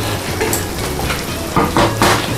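Pork garlic adobo being stirred in a pan, a loud close simmering sizzle with a few scraping knocks of the utensil against the pan toward the end.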